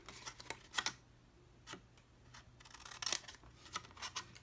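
Scissors snip through the end of a paper Smarties treat box, several short crisp cuts scattered across the moment with light paper rustling in between, close and fairly quiet.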